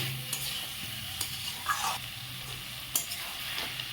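Cashew and poppy seed paste stirred in a frying pan over low-to-medium flame, a soft steady sizzle with several scraping strokes of the spoon, close and fairly quiet, with no talking.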